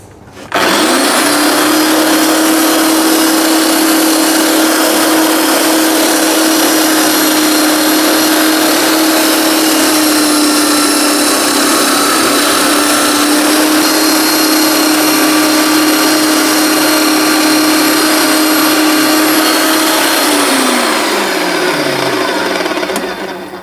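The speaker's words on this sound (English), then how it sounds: "This is just basically a big eraser, but it's specially formulated to clean all the crap out of that belt" A belt sander roars loudly and steadily while a rubber eraser cleaning stick is pressed against its belt, then the motor winds down at the end.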